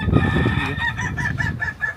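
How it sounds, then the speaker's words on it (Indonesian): A rooster crows close by, a loud drawn-out call with a rising and falling pattern, heard alone, in Sirukam, West Sumatra. "Ayam kukuak balengge."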